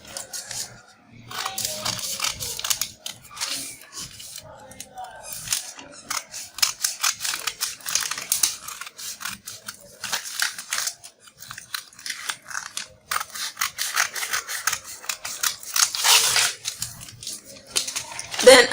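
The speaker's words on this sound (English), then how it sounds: "So the next thing I'm going to do is to cut it out." Scissors snip steadily through fabric to cut out a diamond-shaped neckline for a garment, giving a close run of short, crisp cuts and rustles, with brief talking in between.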